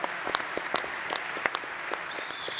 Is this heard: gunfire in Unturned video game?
no